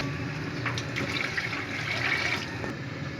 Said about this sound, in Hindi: साथ साथ इसके अंदर हम पानी शामिल करेंगे